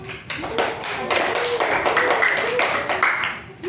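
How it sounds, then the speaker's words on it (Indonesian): A class of students in an Indonesian-language lesson claps for a classmate, a close, busy round of applause with a few voices mixed in. "tepuk tangan buat Jen"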